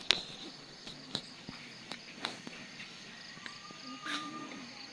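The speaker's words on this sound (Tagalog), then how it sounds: "pero may mga kuliglig." Crickets chirping at night at a campsite in Tanay, Rizal, a thin high trill running under faint ambient night sounds, with a few sharp clicks and taps nearby.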